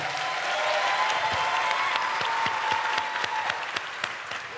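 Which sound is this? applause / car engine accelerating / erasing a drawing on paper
applause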